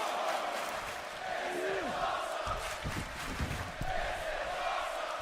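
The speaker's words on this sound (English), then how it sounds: "Crowd already chanting, this is awesome." A dense arena crowd roars and chants in the wrestling video game WWE 2K24, a steady wall of noise with occasional thuds and a commentator's voice beneath it.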